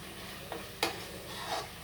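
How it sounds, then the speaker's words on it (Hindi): Peas cooking in a pan for matar paneer, a soft continuous sizzle with faint stirring and one sharp clink of a utensil against the pan. "मैंने मटर हल्के से जो पानी में गर्म डाले थे, अब इसको मैं ऐसे ही पका लूँगी"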